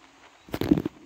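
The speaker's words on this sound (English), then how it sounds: "Her main guns do hit hard, though, I will tell you that." Main guns of the battleship Musashi fire in Naval Creed, giving a short, crackling burst of a few rapid loud bangs against quiet.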